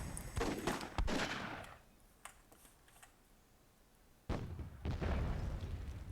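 Grenade explosions in the video game Myth II Soulblighter, two long loud booming blasts with crackling debris, separated by a quieter stretch with a few faint pops.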